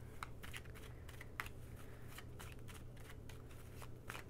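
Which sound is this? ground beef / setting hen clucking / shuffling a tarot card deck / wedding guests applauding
shuffling a tarot card deck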